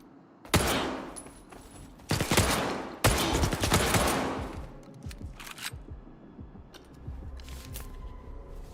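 Rifle shots in STALKER 2 ring out as three loud, sharp reports spaced about a second apart, each trailing off in a long echo. Quieter clicks and movement noises follow.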